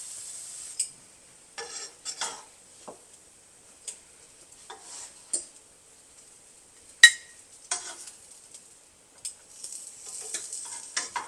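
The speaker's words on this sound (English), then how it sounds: "Hear that sizzle from the garlic butter." Burger buns sizzle face down in a pan of garlic butter, a faint steady crackle punctuated by scattered sharp pops and ticks, with no talking.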